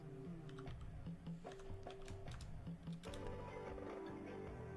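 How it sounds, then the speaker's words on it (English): Typing on a computer keyboard in a steady, quick run of close, light key clicks, with several short bursts and small pauses and no one speaking over it. "No, I want to type like this first."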